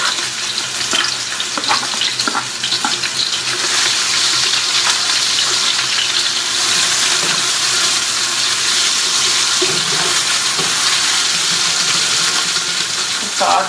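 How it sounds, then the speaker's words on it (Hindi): Two onions fry in about seven or eight teaspoons of oil for Hyderabadi tahari, a dense, steady sizzle and crackle close up that continues throughout, with occasional stirring scrapes. "7-8 चमचे टीस्पून ऑयल के गए हैं, और ये मैंने 2 प्याज़ें ली हैं जिसको इसमें फ्राई करेंगे"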